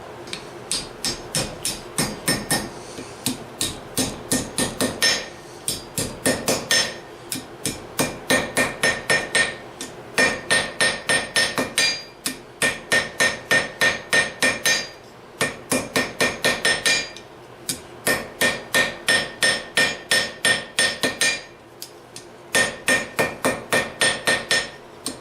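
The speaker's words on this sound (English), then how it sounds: "So we're kind of getting this straightened back out." Blacksmith's hammer striking a hot steel hook on an anvil at the forge, in steady rapid bursts of ringing metallic blows with short pauses between groups, loud and close, with no talking.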